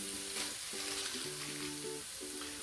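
An elk burger patty seasoned with kosher salt and cracked black pepper sizzles steadily in a hot cast iron pan, a continuous close frying hiss with a faint hum underneath and no talking.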